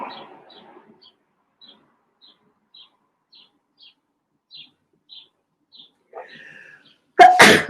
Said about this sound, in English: Little sneeze makes a person laugh.